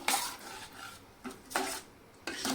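A spoon stirs cashew curry in a metal pot, making three or four bursts of scraping and clinking with short quiet gaps between them.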